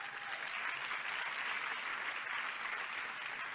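Steady, even applause from an audience fills the room after a speech, a dense wash of clapping at moderate distance with no voices standing out.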